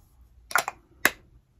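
Perfume, a fragrance dupe of Attrape Rêve, spritzed from a bottle: two quick, close hissing sprays, the first slightly doubled, with quiet around them and no talk.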